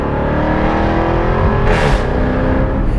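A 2021 Jaguar F-Type R, a 575-horsepower car, roars loudly and continuously up close, its engine note rising briefly in a surge of revs partway through with no voices.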